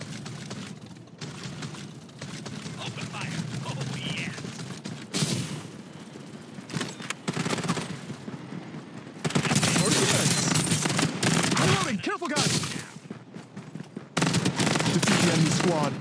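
Rapid automatic gunfire bursts and fusillades in the battle royale shooter Farlight 84, loud and close, coming in dense volleys with short pauses between them, mixed with game effects.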